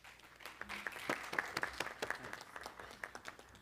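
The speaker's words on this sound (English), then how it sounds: "another round of applause for Dr. Chin." A moderate audience at an education conference applauds, with a steady spread of claps and a few sharper, louder hits. The round is heard at a modest distance.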